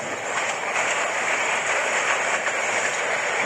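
A train running along a railway line between Jamalpur and Dewanganj, a loud, steady rushing roar of wheels and carriages with faint rhythmic rail clatter, close and continuous.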